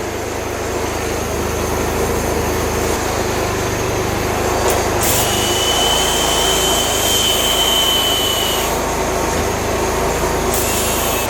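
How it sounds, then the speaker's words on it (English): A generator powering a TIG welding setup runs steadily, giving a constant loud engine drone with a faint high whine partway through, and no one talking. "So that's the generator. We'll plug it in, turn it on, fire it up."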